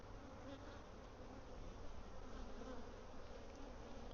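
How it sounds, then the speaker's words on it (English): Dense, steady buzzing of many bees in a hive, a close, continuous hum with no talking. "there's a lot of bees in here"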